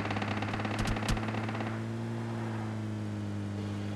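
Gunfire in PUBG Lite, a quick burst of several shots from behind cutting through a steady in-game hum, then fading out as the background drone continues alone.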